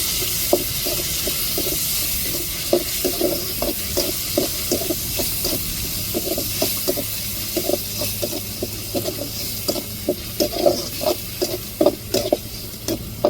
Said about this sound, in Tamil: தாளிப்பில் வந்து நம்ம அம்மியில் அரைச்ச சின்ன வெங்காயமும் தக்காளியமும் இப்போ நல்லா வதக்கி விட்டுக்கிடுவோம்